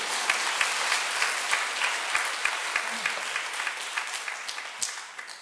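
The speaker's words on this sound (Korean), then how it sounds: "이때 되면 박수를 한번 쳐야 안 되겠어요?" Congregation in a church service breaking into steady applause, a dense wash of many hands clapping at moderate loudness with sharp individual claps standing out, no talking over it.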